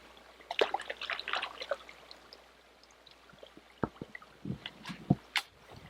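A 9mm SAR Arms B6P pistol is rinsed in water, giving soft splashes and dribbling trickles, first clustered and then as scattered distinct drips and plops, fairly faint and close, with no talking.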